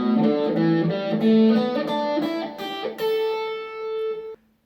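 A guitar plays the second pentatonic scale shape as a run of single plucked notes, moving one after another, clear and close, with the last note ringing before it stops abruptly.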